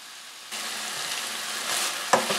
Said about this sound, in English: it's going to cook up my sausage